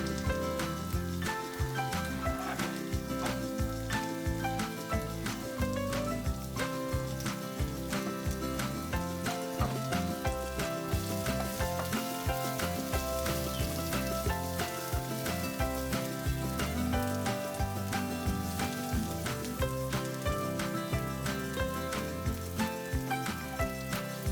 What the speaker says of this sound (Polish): Zacznę od podsmażania cebuli z dwiema łyżkami oliwy.